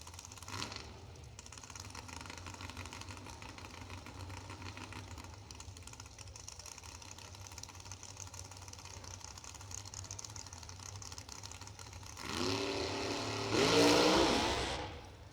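A 1953 Corvette drag car idles steadily at a street drag race, its engine droning, then revving up louder toward the end with a rising roar.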